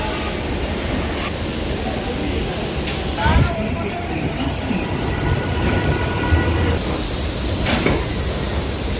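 A Sealdah–Dankuni local train pulls out of Sealdah station with a loud, continuous rumble and hiss of wheels on track, heard from on board, with a couple of sharp clanks partway through.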